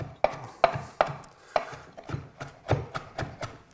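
Cauliflower stems chopped with a knife on a cutting board while making a shrimp cauliflower salad: about ten crisp, close thuds in a steady, slightly uneven rhythm, with no talking.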